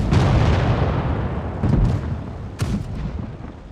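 Heavy tank cannon blasts in the video game World of Tanks Blitz boom one after another, loud and rumbling, with a few sharper shots standing out.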